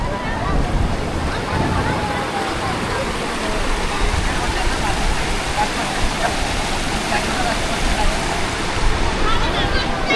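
Monsoon waterfall at Kondeshwar temple, a broad, steady roar of rushing water with wind buffeting the microphone, loud and unbroken throughout.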